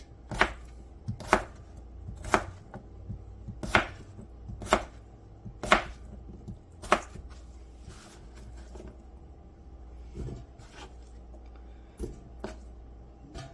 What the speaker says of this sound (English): Slice and dice.